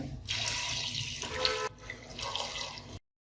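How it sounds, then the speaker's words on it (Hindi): Water pours steadily from a tap into a cooking pot of chickpeas on the stove for a Maharashtrian chole masala, a continuous splashing flow that briefly pauses near the middle and then resumes before stopping. "ये पानी डाले ताकि अपना चना अच्छे से डूब सके पानी में"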